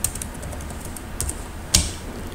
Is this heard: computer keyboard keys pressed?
yes